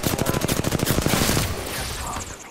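Rapid automatic gunfire in Apex Legends, a fast steady burst of about fifteen loud close shots lasting over a second, then trailing into echoing reverb and ambient battle noise.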